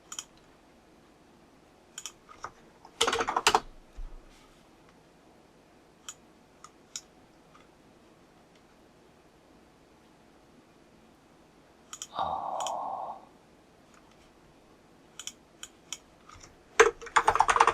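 Typing on a computer keyboard while working in Visual Studio 2019: sparse single key clicks and short bursts of rapid keystrokes, close and crisp, separated by quiet pauses.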